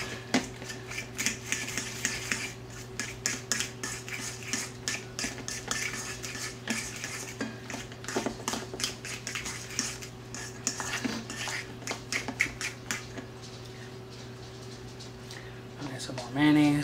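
Spoon clinking and scraping against a bowl while mixing deviled egg yolk filling with mayonnaise, a steady rapid rhythm of close taps under a steady hum, with a voice talking over it.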